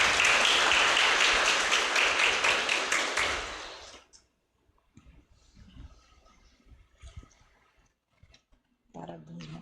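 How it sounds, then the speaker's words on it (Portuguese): Audience in a public meeting hall breaks into loud, dense applause for about four seconds, then the clapping stops abruptly, leaving quiet room sounds and a few faint knocks. "Palmas para ela, minha gente."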